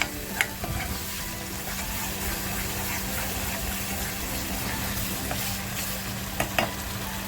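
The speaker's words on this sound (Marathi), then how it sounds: "ह्या मसाल्यामध्ये टाकून छान असा मसाला फ्राय करून घ्यायचा आहे" Squid masala frying in oil in a pan and being stirred, giving a steady low sizzle broken by a few clinks of the spoon against the pan near the start and the end.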